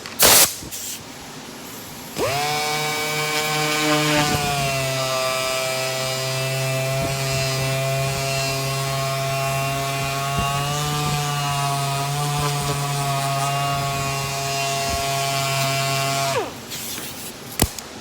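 Fiberglass paint repair being sanded with 600 grit paper, a steady droning, tonal machine whine running continuously for about fourteen seconds, loud and close, with no talk.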